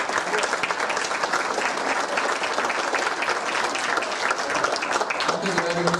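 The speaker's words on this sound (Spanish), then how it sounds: "Alejandro Rosas, para quien pido un fuerte aplauso." A conference audience gives a lecturer, a historian speaking on the Mexican Revolution, a loud, sustained round of applause, with dense clapping filling the hall from start to finish.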